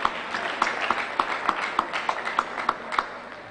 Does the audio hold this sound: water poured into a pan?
no